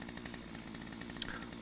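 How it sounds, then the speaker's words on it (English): A steady, droning chainsaw from the video game Lumberjack Simulator idles and revs continuously at close range for about a second and a half, with no talking over it. "So here's the chainsaw."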